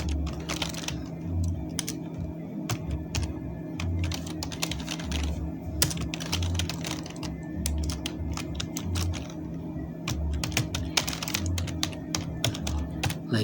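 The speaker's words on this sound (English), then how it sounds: "then I will type here" Typing on a computer keyboard while making a restaurant poster in PowerPoint: steady, close key clicks and taps in irregular quick bursts over a low, constant hum.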